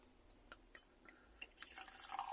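Perry, a lightly sparkling pear cider, poured from a bottle into a glass, with a few faint drips followed by a growing gurgling splash, close and quiet.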